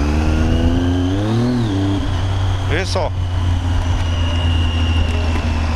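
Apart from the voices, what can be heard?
motorcycle engine with faulty clutch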